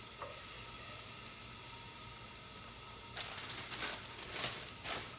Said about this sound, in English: I have onions that I've cut up and I'm going to saute those in my pan here